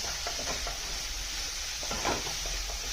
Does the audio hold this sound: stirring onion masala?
yes